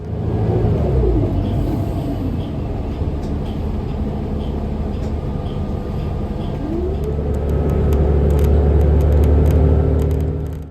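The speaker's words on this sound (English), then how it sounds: "here's our bus, operated by Ride On Montgomery County" Steady engine rumble and road noise inside a moving Ride On Montgomery County bus on Route T2, with a low drone rising as it accelerates and rattling clicks near the end.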